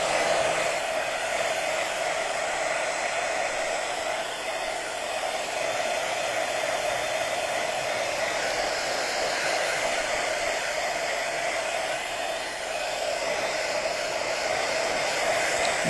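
A hair dryer blows continuously at close range to dry a thin layer of paint on a stained wood canvas, a steady loud whooshing hum with slight fluctuations and no speech.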